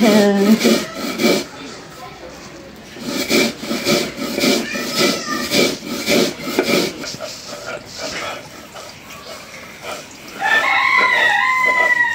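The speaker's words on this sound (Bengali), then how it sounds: "বাটা হয়ে গেল কালো জিরা ভর্তা" Roasted black cumin being ground into a paste for bhorta: rhythmic, rasping back-and-forth grinding strokes, close and loud for several seconds. The grinding then stops, and a rooster crows in the background near the end.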